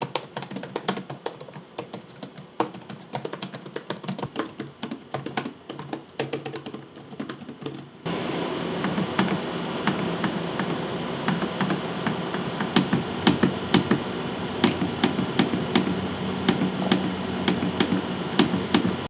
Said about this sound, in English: So here's a sound clip of both of the keyboards and trackpads.